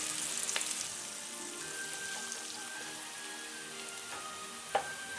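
Onions fry in a pan of oil for avgolemono soup, a steady low hiss and crackle close by, with a few small pops and a faint clink near the end.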